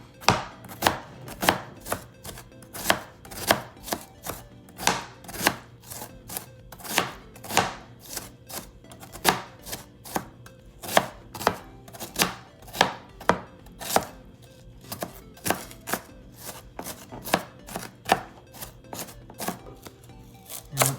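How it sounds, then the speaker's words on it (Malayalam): A knife chops chicken finely on a board for a salad sandwich, giving a long run of steady, crisp, close thuds in an even rhythm with no talking. "നീളത്തിൽ ചെറുതായിട്ട് കീറിയിട്ട് കട്ട് ചെയ്യാൻ എളുപ്പമുണ്ട്. ചെറുതായിട്ട് കട്ട് ചെയ്യണം."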